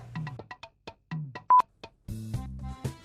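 A phone rings with an incoming call, sounding as a quick melodic series of short electronic tones followed by a fuller, buzzier musical burst, fairly loud and close.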